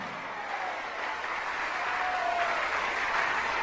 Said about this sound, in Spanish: Si lo cree, dele un aplauso de gloria a Dios.